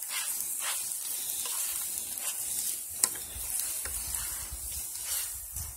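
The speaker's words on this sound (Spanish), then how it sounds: "Es cuando le voy a poner la cebolla para que no se queme tanto la cebolla" Onion frying in a pan for red chilaquiles, a continuous bright sizzle with occasional stirring scrapes and one sharp utensil tap, close and alone.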